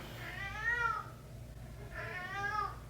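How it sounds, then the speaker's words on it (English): A pet cat meows twice, each call a drawn-out, wavering cry about a second long, separated by a short pause and heard fairly close over a faint low background hum. "This is my cat every day, at least twice a day."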